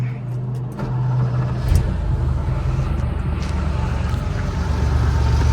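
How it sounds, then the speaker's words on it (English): A 1984 Porsche 911 coupe engine cranking over and catching, then settling into a steady, loud, close idle rumble that continues to the end. "let's fire her up"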